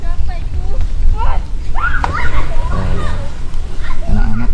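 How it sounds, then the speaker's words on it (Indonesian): Children bathing and splashing at the edge of a river at high tide, their voices and shouts mixing with close water splashes and sloshing throughout, over steady outdoor background noise. "Anak-anak di pinggir sungai ini mandi"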